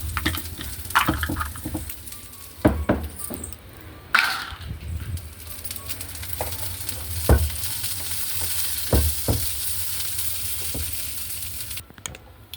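Hot ghee sizzles and crackles steadily as a tempering with asafoetida fries for dal, with a few sharp clinks and stirring knocks of a utensil against the pan.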